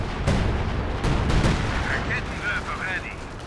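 Artillery fire striking a Soviet ZiS field gun in Company of Heroes 2, a dense run of booming gunfire impacts and rumble over about three seconds, with faint battlefield chatter and radio-like tones near the end.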